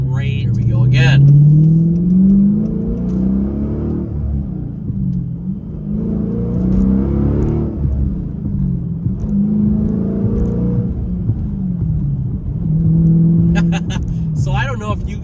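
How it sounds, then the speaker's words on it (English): A Dodge Challenger SRT8 accelerates hard with a deep, loud, rumbling exhaust that rises in pitch through repeated pulls and gear changes. Sharp crackles and pops sound between pulls, and someone speaks over the engine. "I love the exhaust on here. The snap, crackle, and pop you get is great."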